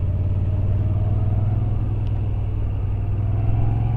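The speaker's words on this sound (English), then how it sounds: "it's a little bit keen to accelerate off the throttle" A Moto Guzzi V7 Stone motorcycle engine drones at a steady, loud, low rumble throughout, heard up close while riding, with little sign of rising revs.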